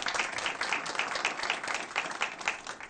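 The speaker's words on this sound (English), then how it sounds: "Give him a round of applause" A school board meeting audience applauds a newly appointed elementary principal. The clapping is moderate and steady with no voices, and it holds evenly for about three seconds.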